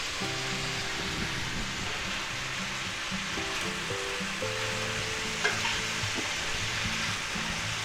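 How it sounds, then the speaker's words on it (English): Broccoli hits a hot stir-fry pan already holding pork, peppers and onions, giving a steady, loud sizzle with clattering stirring throughout; no one speaks. "now we're going to go ahead and add all our broccoli in there"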